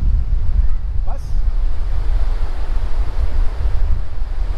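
Sea waves at Colva Beach in South Goa wash in as a continuous low, loud roar of surf mixed with wind buffeting the microphone, with a brief faint chirp-like sound early on.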